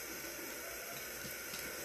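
A tap runs water steadily into a sink during a face-washing skincare routine, a constant, even hiss with faint splashing and no talk.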